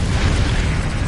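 Incendio fire spell cast in Hogwarts Legacy, a dense loud roaring fiery burst filling the whole brief moment, with no speech.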